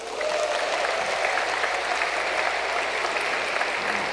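Audience at a Lenten recollection clapping loudly, a dense, even wash of applause that starts quickly and holds steady to the end.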